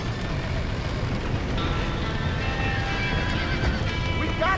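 Horses whinny in the Red Dead Redemption video game amid a fire scene, with faint neighs over a constant dense rumble of crackling fire and commotion, plus occasional hoof clip-clop.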